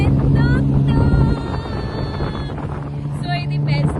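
A tuk-tuk ride through Bangkok traffic: a steady motor drone with wind buffeting and road noise runs throughout, and voices talk over it.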